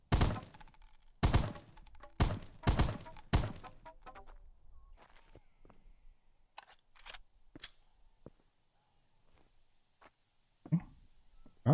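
Gunshots from a weapon in the A.A.U. beta video game: a series of sharp, loud single shots in an uneven rhythm early on, then scattered quieter cracks and thumps with gaps of near silence between them.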